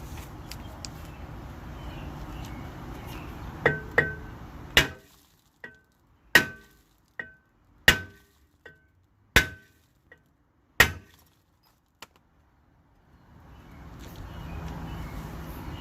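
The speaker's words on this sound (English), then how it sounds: "I go back to my hammer, and I'm just gonna hit this section, that section, all the way around, just to loosen up the rust" A hammer strikes a rusted rear brake rotor on a 2011 Camaro SS, about ten sharp metallic clangs spaced irregularly, close and loud, with a quiet pause before a low hum resumes.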